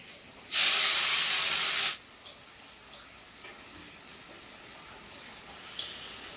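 Chopped capsicum and tomato hitting a hot pan in a mutton kosha dish: a loud, close burst of hissing sizzle for over a second, then a low simmer with faint clicks.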